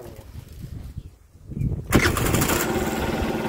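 A Peugeot Kisbee scooter fired with its electric starter: a short whirring crank, then the small engine catches with a sharp burst and settles into a loud, steady idle close by.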